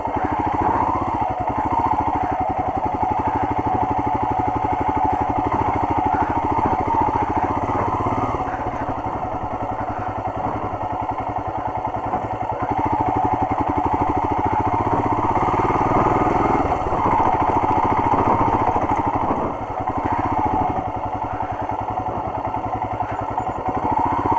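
A Royal Enfield Himalayan motorcycle riding off-road in second gear, its engine droning steadily and continuously up close for the whole stretch, with rough clattering from the terrain and no talk over it.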